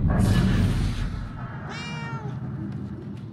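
A cat meows in the video game Murdered: Soul Suspect, one clear close meow standing out over a rumbling game soundscape.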